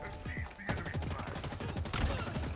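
Rapid gunfire in Halo Infinite during a Husky Raid match, a dense run of close shots with a louder burst near the middle and another toward the end, under a player's voice.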